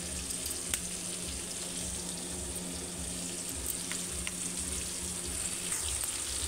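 Ivy gourd pieces fry in a pan with a continuous, moderately loud sizzle and crackle, holding steady throughout with a faint underlying hum and no talking.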